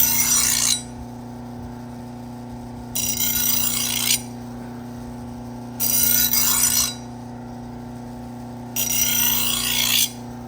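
Four evenly spaced swipes of a knife edge against a slow-speed sharpening grinder, each a bright rasping hiss about a second long over a constant motor hum, close up and with no talking.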